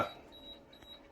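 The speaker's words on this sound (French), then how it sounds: "Donc voilà ce que ça donne quand elle demande de l'eau." A Laurastar S Pure ironing system signaling that it is out of water, sounding as a faint high electronic tone that repeats in short pulses, quiet and close, after a brief knock at the start.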